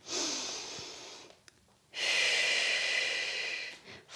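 Deep breaths during a floor exercise workout: a long, airy breath, a brief pause, then another long, steady breath close to the mic.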